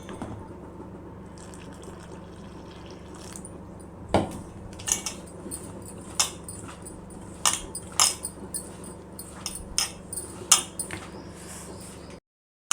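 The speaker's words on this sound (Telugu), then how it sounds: "ఇప్పుడు పిండిని కలుపుకోవాలి పాలతో" Flour dough mixed by hand with cooled boiled milk in a bowl, giving close wet squelching and a run of distinct clinks and knocks against the bowl, steady and fairly loud, with no talking.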